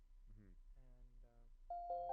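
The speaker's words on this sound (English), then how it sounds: "just a simple like bell in the back" A simple bell patch from the Arturia DX7 VST synth plays a few soft tones, and clear sustained bell notes ring out near the end, quiet and close.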